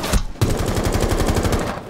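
Rapid automatic gunfire in the Rainbow Six Siege video game: a short opening shot, then a dense, loud burst of evenly spaced shots lasting well over a second, with no talk.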